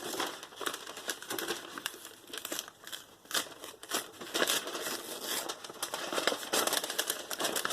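A paper junk mail envelope is unfolded and ripped by hand, with continuous close crinkling and crackling of paper and some sharper tearing bursts throughout.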